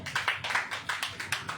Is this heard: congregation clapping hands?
yes